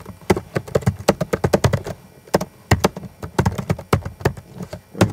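Fast, uneven clicking of keys on a computer keyboard is heard up close, with a brief pause near the two-second mark and no talking.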